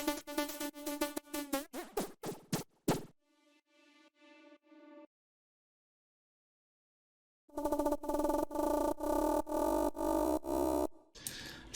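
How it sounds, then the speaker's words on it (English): A synth FX sound built in Serum, with a short LFO chopping the main oscillator level, stutters in rapid pulses for a tech house track, breaks into a softer gated tone, goes silent, then returns in dense loud bursts. "So I created this sound in Serum, and I created a pretty short LFO which I linked to the level of the main oscillator."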